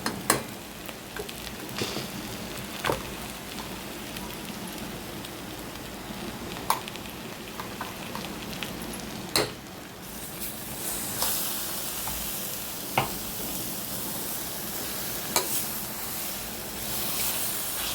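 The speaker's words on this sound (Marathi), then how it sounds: "या 2 मिनिट ह्याला परतून देऊ." Ground spice paste being sautéed in a pan, giving a steady hiss and sizzle that grows louder partway through, with occasional sharp clicks from stirring against the pan and no talking.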